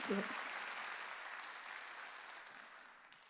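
A church congregation at a Korean Wednesday worship service breaks into broad, sustained applause that fills the room and slowly fades, with a voice briefly audible at the start.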